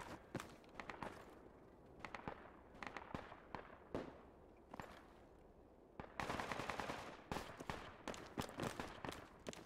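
Repeated gunshots in Project Reality, sharp cracks and short bursts of rifle fire at irregular intervals, some nearer and louder, others distant, with a denser volley toward the end and no talk.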